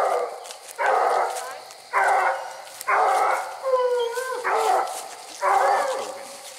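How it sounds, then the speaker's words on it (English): Coon hunting dogs bark and bay at night by a tree stand, with five or six loud, drawn-out bursts in an uneven rhythm and a few yips between them. "They're barking at your tree stand."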